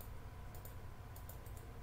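A computer mouse gives a few quiet, quick clicks in small clusters against a steady low background hiss.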